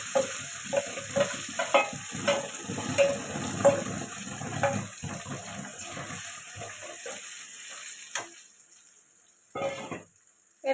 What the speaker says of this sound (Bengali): তেলটা গরম হয়ে গেছে। এবারে ওই পেঁয়াজ কলি আর শিম একসাথে গ্রেট করা ওটা দিয়ে দেবো।